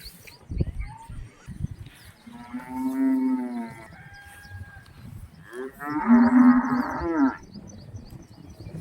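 A cow on a farm gives two long, loud, close moos separated by a pause, with faint rustling and background noise between the calls.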